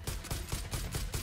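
Rapid bursts of gunfire in Far Cry New Dawn pop in a quick, regular rhythm, about five shots in a second, loud and close with no talking.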